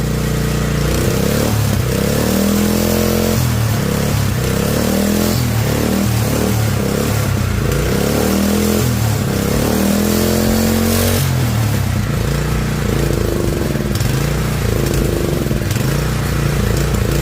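A homemade drift trike's small engine runs steadily and loud, its uneven chugging idle wavering in pitch with occasional revs for about seventeen seconds, no voices over it.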